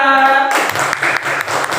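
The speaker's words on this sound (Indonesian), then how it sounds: "itu tepuk tangan buat kelompok 3" Students in a classroom burst into applause for group 3, a brief spell of dense clapping that begins just after a short tone and runs to the end.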